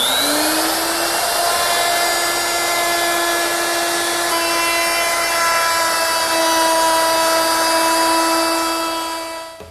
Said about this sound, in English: the last milling operation is to round over these edges on all 4 sides. And to do that, I'm going to use my 1/4 inch rounding over bit.